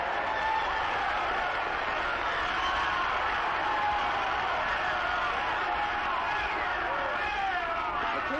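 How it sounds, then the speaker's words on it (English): A boxing crowd at a 1929 fight night roars and cheers wildly, a dense, sustained wall of voices, loud and continuous across the whole stretch. "listen to that crowd. They've just simply gone wild."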